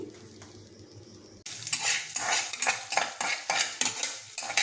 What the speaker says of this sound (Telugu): ఫస్ట్ ఈ జీలకర్ర ధనియాలు వేయించుకుందాము ఇవి బాగా దోరగా వేగేంత వరకు వేయించాలి